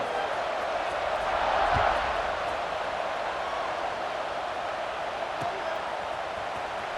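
Crowd noise fills a football stadium during a Texas vs Florida game, a steady loud roar that swells briefly near the start and holds as a constant wash throughout.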